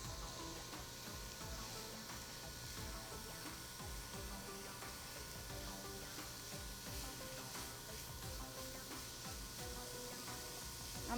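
Ground beef cooking in a pan gives a steady, even sizzle with a continuous hiss, fairly quiet and unbroken throughout, with no voices over it.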